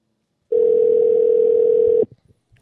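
A steady, loud phone dial tone plays for about a second and a half over a Bluetooth call connection, then cuts off sharply, leaving a few faint clicks.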